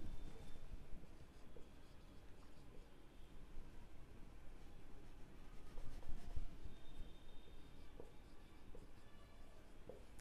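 A teacher writes out a final answer about rational numbers on a board during a 7th-standard maths lesson, with steady scratchy strokes running continuously at close range over faint background noise.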